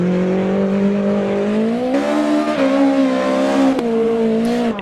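Peugeot 306 Kit Car rally car in the Richard Burns Rally video game on tarmac, its engine held at the rev limiter with a loud, steady high-pitched drone that stutters and shifts pitch slightly several times.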